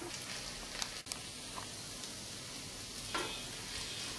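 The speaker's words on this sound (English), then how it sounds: "okra or the lady's finger that we had cooked and fried earlier and saute them well" Fried okra with spices is sautéed in a pan, giving a soft, steady sizzle with a few faint scrapes and taps of the spoon, quiet and close, without talk.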